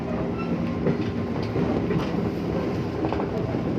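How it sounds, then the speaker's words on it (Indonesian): A JR 203 commuter train runs on its route near Tanah Abang and BSD, giving a steady close rumble with faint rhythmic clicks of wheels over rail joints throughout. "Kita nikmati perjalanan kita naik JR 203 ini"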